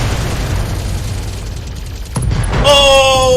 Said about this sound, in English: This should be some glorious explosions.